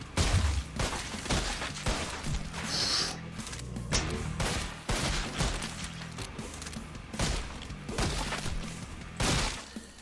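Gunfire in the shooting game Lighthouse of the Dead comes as rapid, loud shots and impact crashes over a pulsing game soundtrack, bursts repeating throughout.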